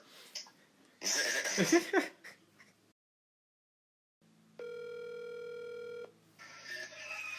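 A telephone rings once in a steady electronic tone after a stretch of talk and laughter, with voices returning right after it stops.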